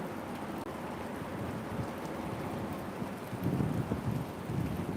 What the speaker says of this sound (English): We are getting a good rain.